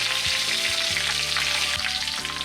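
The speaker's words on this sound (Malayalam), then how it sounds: "അത് എണ്ണയിൽ കിടന്ന് പൊട്ടുമ്പോൾ നല്ല മണം" Curry leaves and dried red chillies crackle and sizzle steadily in hot oil, a close, dense frying hiss with faint popping throughout and no talking.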